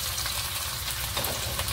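Asafoetida tempering with curry leaves and chillies sizzles in hot oil, a short, loud, even crackling hiss heard close and alone.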